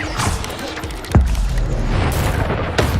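Incendio fire spell cast in the Hogwarts Legacy video game on hard mode, a sudden booming whoosh that flares up over a dense, rumbling backdrop of battle noise, followed by a second burst near the end.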